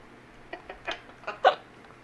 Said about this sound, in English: I can't get rid of this hiccups.